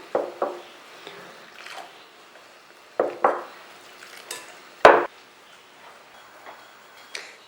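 Rice flour batter for Hakka steamed cakes being stirred in a large bowl as sugar water is added, heard as close, intermittent clinks and taps of a utensil against the bowl with one sharper knock, in a quiet room, with no talking.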